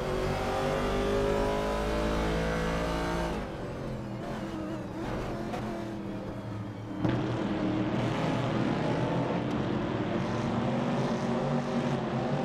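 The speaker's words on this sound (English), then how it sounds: "At the moment, Raleigh Speeder is leading the pack. And we just had the race start." Vintage TransAm race cars accelerate at the start of a racing video game set at Road America, several engines roaring and revving loudly together with shifting pitch and a sharp rise in intensity midway.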